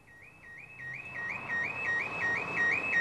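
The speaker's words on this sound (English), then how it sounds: "The villains had somehow triggered the truck's alarm on the way" A truck alarm outside a disused warehouse by a canal wails in a steady repeating up-and-down electronic cycle, continuous and fairly loud, with no voices.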